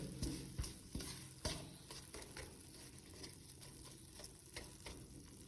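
Milk mixture for besan barfi coming to a boil in a pan, giving a soft, steady bubbling hiss with scattered light pops and occasional stirring scrapes, no voices.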